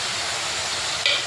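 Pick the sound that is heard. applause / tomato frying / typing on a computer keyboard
tomato frying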